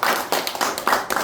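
A short round of applause from a seminar audience welcoming a lecturer on leadership, a few sharp individual claps in quick uneven succession, close and clear, without talk.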